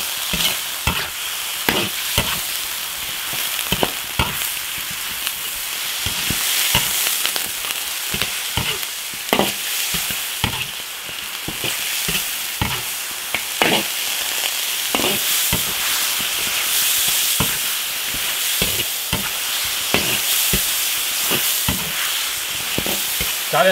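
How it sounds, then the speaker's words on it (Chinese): Free-range chicken pieces stir-frying in a large iron wok over high heat, rendering their fat: a continuous loud sizzle with steady scraping and stirring clatter throughout, no voices. "把鸡油煸炒出来。"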